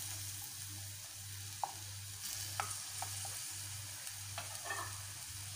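Chopped onions frying in a tagine, a steady low sizzle running throughout with a faint hum beneath and a few light clinks of a utensil against the pot.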